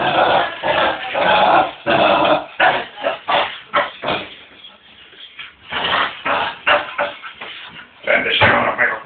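A dog growls and snarls continuously at close range while tugging at a garden hose, with rough, rhythmic bursts.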